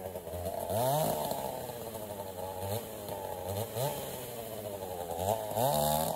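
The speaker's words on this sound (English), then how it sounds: "a little bit of chainsaw work before then" A chainsaw runs steadily with its buzzing pitch rising and falling as it revs repeatedly, fairly distant, no voices.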